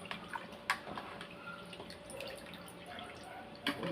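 Shrimp being rinsed under a running kitchen tap, a soft wash of flowing water with a few sharper drips and splashes, fairly quiet and steady throughout.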